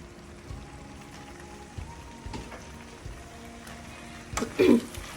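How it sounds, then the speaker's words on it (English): Rinsed pasta goes into a simmering ground beef and tomato sauce in a home kitchen, a faint sizzle and soft drips building to a short wet plop and clatter near the end. "So what I'm gonna do is I'm gonna go ahead and add my pasta in."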